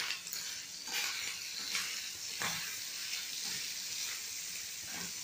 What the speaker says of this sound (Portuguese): A nossa linguiça já está bem seladinha.